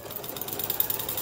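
A sewing machine runs in a quick, steady rhythmic whir while stitching minky blanket binding, close and moderately loud for a brief stretch.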